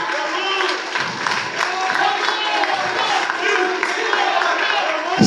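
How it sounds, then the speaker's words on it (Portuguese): Church congregation during a Portuguese-language sermon breaking into applause and cheering for the Lord, a dense, loud crowd roar of clapping and shouting voices filling the room throughout. "Aplauda o Senhor."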